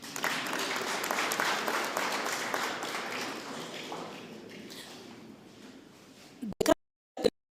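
Audience clapping during a regional state-of-the-region address in Kavango West, Namibia, fairly faint and fading out over several seconds, followed by a couple of sharp nearby knocks or thumps.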